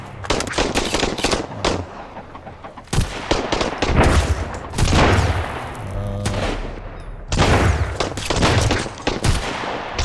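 Gunfire in the Sunkenland survival game comes as loud bursts of rapid machine-gun fire broken by short pauses, several separate volleys sounding close and sharp.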